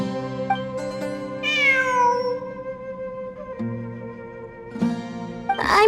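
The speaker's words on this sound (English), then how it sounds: "It really is a cat." Cat meowing in Genshin Impact, a few drawn-out, pitch-sliding meows that rise and fall over steady game music, the loudest call near the middle and a shorter one at the end.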